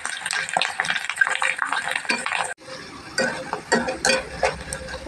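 Evening snacks fry in oil in a karai, with sizzling under steady stirring and clinking of a metal spatula against the pan, close up.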